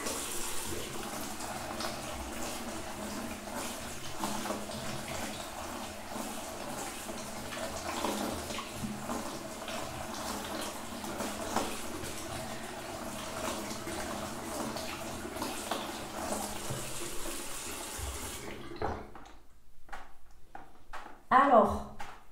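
Tap water runs steadily for about eighteen seconds while a face is rinsed under a bathroom faucet, splashing and hissing under a voice, then cuts off into near silence with a brief knock at the end.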